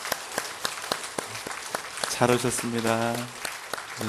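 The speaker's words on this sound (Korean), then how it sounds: "우리 다 함께 큰 박수로 환영하겠습니다." Steady rhythmic clapping from a church congregation fills the room during a Sunday worship service, and a person starts speaking over the applause near the end.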